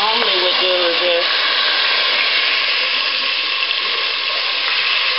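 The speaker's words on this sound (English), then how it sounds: "So I'm having to spoon the chicken breast into the pot." Chicken breast spooned into a hot pot of curry sizzles loudly and continuously with a bright hiss, and a short voice sounds at the very start.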